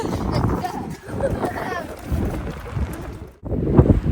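Gusty wind blows hard outdoors in Harrogate, England, buffeting the microphone in rising and falling rushes while someone speaks over it.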